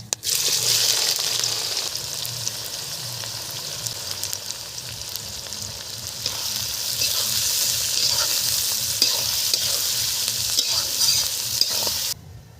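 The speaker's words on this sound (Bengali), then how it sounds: "এলাচ, লবঙ্গ, দারচিনি দিয়ে দিচ্ছি ফোড়নে। দিয়ে দিলাম পেঁয়াজ" Cardamom, cloves, cinnamon and onion sizzle in hot oil as a spice tempering, a dense continuous crackling hiss with occasional stirring scrapes, close and steady throughout.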